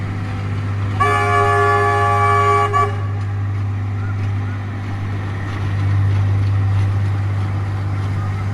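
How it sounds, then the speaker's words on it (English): A train arriving at Walhalla's Cooper Creek sounds a loud two-second horn blast over a deep steady engine rumble, the engine drone continuing after the horn ends. "get some footage of the train coming in"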